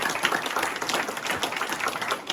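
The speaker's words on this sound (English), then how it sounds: "I think another big round of applause for Malomai and for Jonathan" Audience applause at a Refugee Welcome Network meeting at HARC, a dense steady clapping from a room of people, moderately loud and continuous, with no talk over it.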